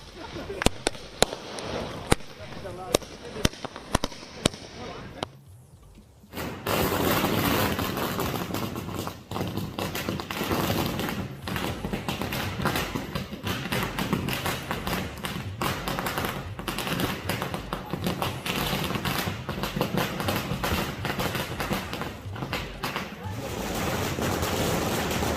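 Firecrackers go off at a BJP election victory celebration in Guwahati, Assam: a few sharp separate bangs, then a dense continuous crackling barrage that rolls on loudly, with crowd noise underneath.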